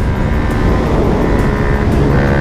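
A loud, steady motorcycle engine roar drones throughout, a raspy motor with its exhaust muffler removed running at sustained high revs close by.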